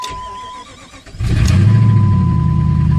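A 2001 Jeep Grand Cherokee with the 4.7 V8 cold-starts: a brief starter crank, then the engine catches and settles into a loud, steady idle close by, with a chime audible before and during the start.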